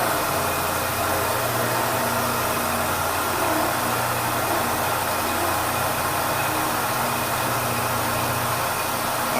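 Machine running steadily while cutting Hayabusa pistons, with coolant nozzles on the overarm; a continuous mid-pitched mechanical drone and hiss holds at an even, loud level throughout with no talking.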